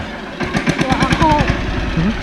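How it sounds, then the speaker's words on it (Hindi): The engine of a large tractor runs near Handi Kho in Pachmarhi, Madhya Pradesh, with a steady low, throbbing chug that keeps going under a voice talking close by. "इतना बड़ा ट्रैक्टर पे हाथ ही चला रहा है।"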